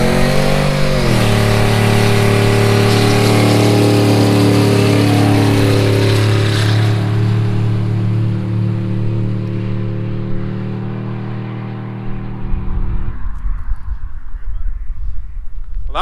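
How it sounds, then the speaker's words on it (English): An LS-swapped hot rod does a power skid: a loud, close engine roar with droning tones and tire noise holds for several seconds, then fades and cuts off while people talk. "Well, that was a power skid."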